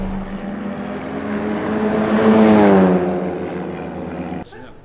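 An Audi R8 race car on a track roars past, its engine note climbing and swelling to a loud peak before fading as it moves away.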